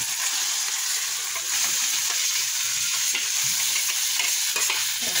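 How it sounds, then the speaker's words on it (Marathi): Potatoes frying in a pan with turmeric and masala, a continuous loud sizzle with stirring scrapes throughout, no talk. "आता हे बटाटा टाकते मी."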